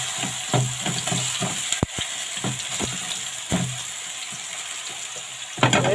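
Dawood Basha kofta sears in a pan with a continuous sizzle of frying, broken by sharp clinks and scrapes as the pieces are moved around; no one speaks.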